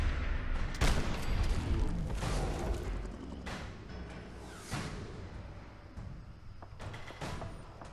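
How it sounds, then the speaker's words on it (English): Distant gunfire in Fallout 4 as the Brotherhood battles a Mirelurk Queen: scattered muffled bursts and booms, fairly faint, spread irregularly across the clip. "Okay, I can hear gunfire."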